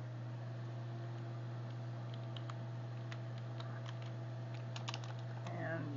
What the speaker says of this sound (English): after you type that word, those two words, and you press enter, which I'll do